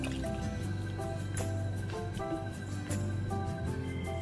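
Water poured into a cooking pot while making a simple jelly dessert with sugar, a steady trickling and dripping pour that runs continuously at moderate level over a background hum, with no talking.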